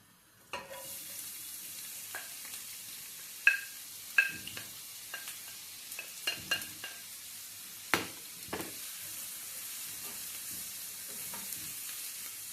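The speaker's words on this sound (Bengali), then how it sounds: "গরম হয়ে গেছে, এখন আমি পেঁয়াজ দিলাম আমাকে" Sliced onions dropped into hot oil for a mackerel chutney: a steady crackling sizzle runs throughout, punctuated by several sharp scraping clatters of stirring.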